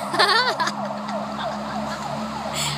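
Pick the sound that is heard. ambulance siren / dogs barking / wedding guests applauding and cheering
ambulance siren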